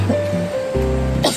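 River water flows with a steady broadband rush, close and continuous, while a faint tonal whine and brief voices sit over it.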